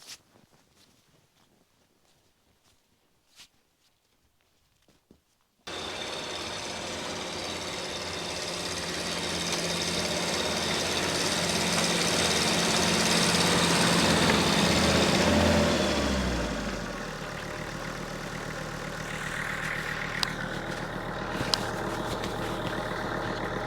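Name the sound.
tractor engine running with snowplow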